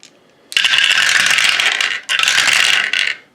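Five dice rolled for a board wargame: a dense, bright rattle of dice tumbling and clattering on a hard surface, close and loud, in two long bursts with a brief pause between them.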